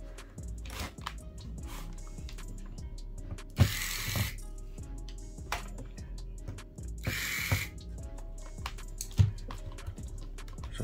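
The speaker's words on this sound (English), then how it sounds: "pop the screen out" An Acer laptop screen is pried out of its bezel, giving repeated close plastic clicks, snaps and creaks with a few sharper pops and scraping handling noises, no voices.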